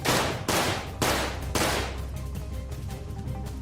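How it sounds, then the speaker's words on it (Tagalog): Four heavy, echoing gunshots fired in quick succession, each booming loud before trailing off into a reverberant rumble, with no voices over them. "Kasabay ng pagtakas nito ay sunod-sunod na putok ng baril."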